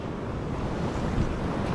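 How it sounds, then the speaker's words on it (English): Choppy ocean surf off a beach at Bingie, NSW churns as a steady, loud wash of water with buffeting wind across the microphone, and no voices. "The ocean's just become really, really choppy."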